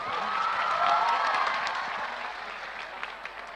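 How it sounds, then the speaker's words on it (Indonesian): An audience at a religious lecture in Indonesia applauds with crowd noise and some cheering, fairly soft and distant, fading over the last second with a few scattered claps. "Berikan tepuk tangan 5 juta untuk Naya."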